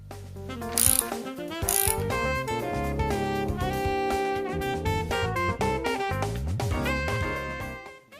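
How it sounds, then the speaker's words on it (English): Nuts being tightened with a ratchet wrench to secure barn door hangers: steady, rapid metallic clicking up close, running continuously with no voices. "Tighten the nuts to secure the hangers to the door."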